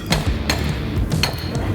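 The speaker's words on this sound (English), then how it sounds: "now I'm gonna use a little hammer" A small hammer taps on a Generation 2 transmission part to knock it loose, giving about four sharp metallic strikes spaced unevenly, loud and close against a quiet workshop background.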